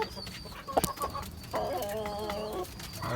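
Tiger and local desi roosters and hens on a rooftop coop, with a sharp nearby cluck, then a drawn-out, wavering crow. Soft bird chatter and faint background noise run beneath.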